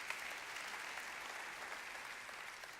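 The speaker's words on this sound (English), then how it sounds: "you can clap for her." An audience claps steadily in a continuous, fairly faint wash of applause on a stage show, with no talking over it.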